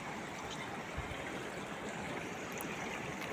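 River water flows steadily down toward a large fish pond as a constant, even, broadband rushing with no break, heard on its own.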